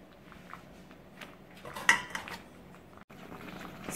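A spoon knocks and scrapes inside a metal pot of Jamaican cornmeal porridge while cinnamon leaves are lifted out, soft clinks and one sharper clang in quiet surroundings.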